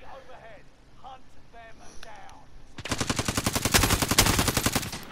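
Rapid automatic gunfire from a first-person shooter bursts in after a quieter stretch with faint voices, a dense, loud rattle of shots continuing to the end.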